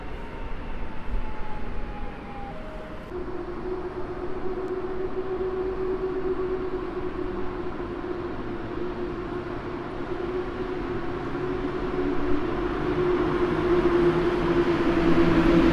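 An Intercity electric multiple unit named Oleńka passes through Warszawa Zachodnia station at night, giving a sustained rolling rumble with a steady tonal whine that swells toward the end.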